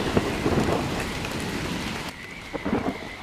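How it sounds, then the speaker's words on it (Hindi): Heavy rain pours steadily as storm sound effect, with loud low rumbling thunder in the first two seconds, then the downpour continues with a few sharper gusts and splashes near the end. "बादलों की गर्जना और बारिश की छींटों की आवाज"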